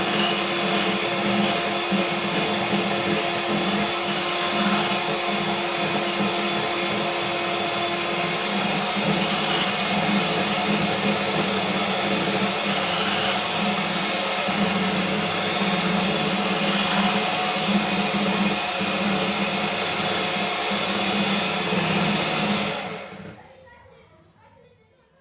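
A mixer whisks cream into stiff-peaked whipped cream, giving a steady, loud whirring drone that runs without a break for about 23 seconds and then stops abruptly.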